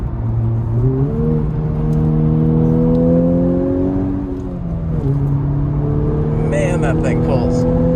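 A 10th generation Honda Civic Type R accelerating hard, heard from inside as a loud, steadily rising engine drone with a gear change midway, then climbing again.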